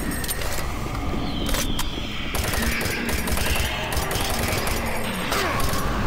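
Rapid automatic gunfire in the Doom 3 expansion Resurrection of Evil, loud and close, bursts rattling almost continuously over a noisy game background.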